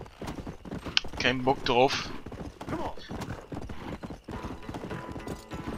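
Horse hooves clip-clop in a steady trotting rhythm while riding in Red Dead Redemption, fairly close and continuous, with a brief burst of talking over the hoofbeats early on.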